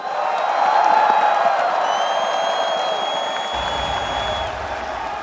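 Arena crowd at the LCS Summer championship final cheers and applauds for NRG, a loud continuous roar of clapping and whoops that swells early and stays strong throughout.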